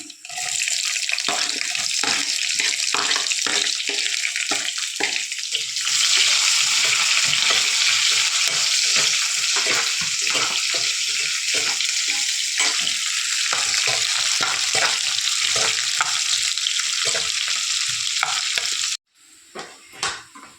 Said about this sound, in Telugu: మనం వేసుకున్న తర్వాత గింజలు కొంచెం ఎర్రగైనాక ఉల్లిగడ్డలు అయితే వేస్తున్నాం